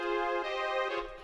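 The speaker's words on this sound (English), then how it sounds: "So the first part you heard was this Analog Lab preset that sounds like this." An Analog Lab synth preset sounds a single bright, buzzy sustained tone with rich overtones for just over a second.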